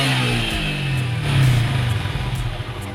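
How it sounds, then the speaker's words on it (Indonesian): A vehicle engine running steadily up close, a loud low rumble with a faint clatter that swells slightly partway through, then settles into an even idle. "Sekarang kita hidupkan mesinnya ya guys."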